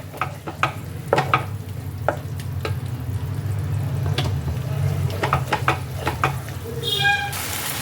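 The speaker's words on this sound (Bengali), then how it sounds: "এই পেস্টটাকে দিয়ে আবারও মশলার সাথে ভালো করে আরেকটু কষিয়ে নিতে হবে।" A paste of poppy seeds, melon seeds, cashews and raisins is stirred and sautéed with spices in a pan, a low sizzle under repeated scraping strokes of a spatula, with a cat meowing briefly near the end.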